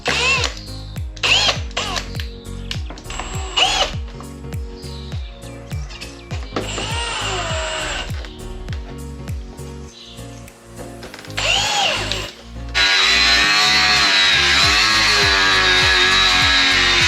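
Power drill driving rustproof screws into a fabricated bumper for a taxi build: repeated short whirring bursts rising in pitch as screws seat, close and loud, with a long steady high motor whine near the end and no speech.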